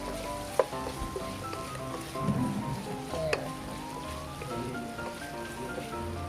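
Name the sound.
butter sizzling in a pan for chicken afritada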